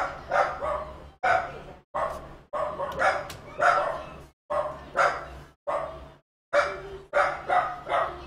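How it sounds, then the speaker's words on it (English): A dachshund barks in a fast repeated run of about a dozen sharp, close yaps, grouped in short bursts with brief gaps between them, and no other sound competes with it. "it's very difficult for me to get angry with a wiener dog"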